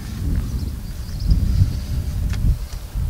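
Steady wind buffets the microphone in a low, rumbling roar with no one speaking, outdoors at the Lyveden New Bield ruin.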